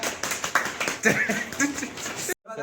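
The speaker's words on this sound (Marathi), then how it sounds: "हा, काय वाजवा टाळ्या" A small group claps for a third-place winner at a hostel drawing competition, brief uneven hand claps mixed with talking and a chuckle, close by, ending abruptly.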